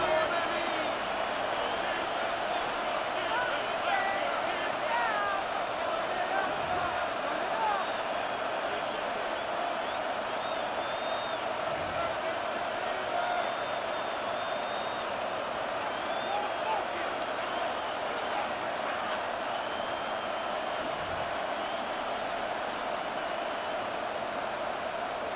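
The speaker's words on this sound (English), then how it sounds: "This crowd turning up the decibel level." A football stadium crowd roars in a sustained wash of noise during a Bears game on third and long. The din holds steady and fills the whole stretch, with faint whistles and shouts rising out of it.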